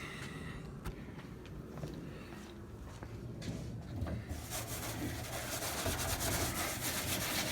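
A scouring pad rubs back and forth over old, peeling clear coat on a car, giving rough scratchy strokes that grow into a louder, denser continuous scrubbing.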